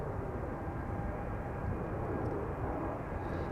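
A SkyTeam-liveried Embraer 190 departs Schiphol with a steady, broad jet roar that holds an even loudness throughout, without clear buildup or fade.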